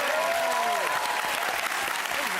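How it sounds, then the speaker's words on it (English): A studio audience at a Christmas special of a TV music quiz show breaks into steady, full applause that lasts throughout, with a brief tonal sound near the start. "could we please have a round of applause"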